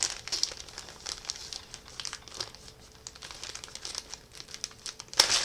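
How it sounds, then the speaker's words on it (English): Tape being peeled off an old model kit box, with close crinkling and tearing of paper and tape in bursts, ending in a sharper rip. "Still some tape on it."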